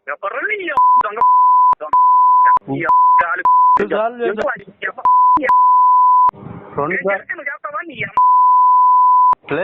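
Steady censor beeps repeatedly cover stretches of a phone conversation, cutting in and out between short bursts of talk; the beep tone is loud and constant each time it sounds.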